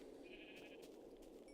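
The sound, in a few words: sheep bleating in Minecraft Tekkit Classic video game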